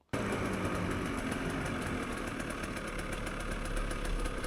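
A hard enduro motorbike at a rally rides up to a service point, its engine starting abruptly and holding a loud, steady, buzzing drone close by throughout, with no voices.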